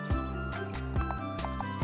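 Cartoon horses heard as a light, rhythmic clip-clop of hooves in a children's animation about a truck, paired with a bouncy musical tune and brief high chirps, the hoofbeats spaced evenly and up close.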